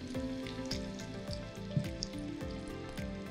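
Potato and tuna kofta frying in hot, boiling oil, a soft crackle and bubbling sizzle beneath a low rhythmic thumping, fairly quiet and close, with no talk.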